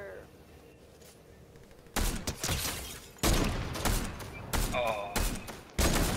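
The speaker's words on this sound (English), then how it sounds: "They're shooting over there!" Distant gunfire cracks out in several sharp bursts spaced through the clip, broadband and fairly loud against a quiet room, with people speaking between the shots.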